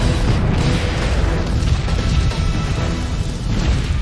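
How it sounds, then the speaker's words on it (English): An ammunition depot's artillery stockpiles detonate in a chain of explosions across Addis Ababa, heard as a loud, continuous, heavy roaring rumble without distinct separate blasts. "Artillery stockpiles are set off, shooting skyward and touching down across the city, causing a deadly chain of explosions."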